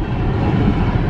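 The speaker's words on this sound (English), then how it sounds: "I think there's the end of our train." A long train rolls past, a loud, steady low rumble and roar of rail cars that fills the whole moment without a break.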